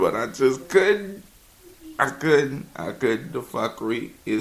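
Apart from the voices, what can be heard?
No everyday noise stands out behind the speech.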